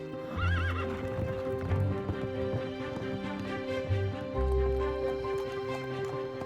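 Horse hooves clip-clop steadily while a horse whinnies early on, with a musical backdrop underneath.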